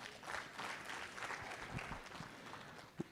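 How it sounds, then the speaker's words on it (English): A conference audience at a World Tuberculosis Day event breaks into applause, a moderately loud, continuous patter of many hands that fades slightly toward the end, closed by a single sharp knock. "Let's give her another round of applause"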